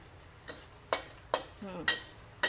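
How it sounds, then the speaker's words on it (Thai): Black peppercorns frying in oil over low heat for a stir-fried prawn dish, with faint background frying and a handful of sharp, separate crackling pops spaced about half a second apart. "ตามด้วยพริกไทยดำค่ะ ใส่ลงไปเลย แล้วก็เจียวก่อนค่ะ ให้พริกไทยดำมันมีกลิ่นหอม ใช้ไฟอ่อนๆนะคะ ในการเจียว"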